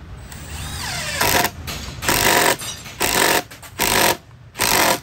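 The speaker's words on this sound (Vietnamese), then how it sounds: "Đây là chế độ tự động nè, nó sẽ gõ từ từ vào hạn chế gãy vít nha." A Milwaukee 2953-20 cordless impact driver in auto mode drives a screw with loud, close bursts of rapid hammering. About five short rattling bursts are separated by brief pauses.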